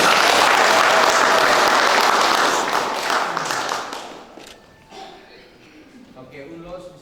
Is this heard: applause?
yes